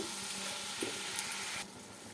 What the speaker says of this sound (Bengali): ঝিঙেটাকে আলুটাকে আলুর সাথে ভালো করে ভেজে নেব